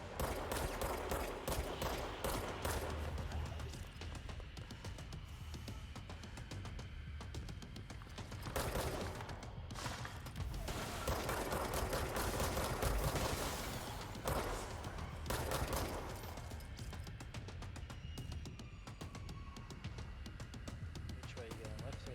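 Gunfire from a gun in the video game Control, loud bursts repeating through the clip with short pauses, blended with game sounds and people talking over it.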